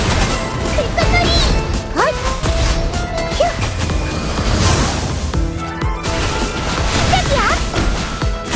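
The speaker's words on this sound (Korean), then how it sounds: "불꽃놀이!" Fireworks bursting in the video game Wuthering Waves, repeated crackling booms and pops over a dense music-and-effects mix.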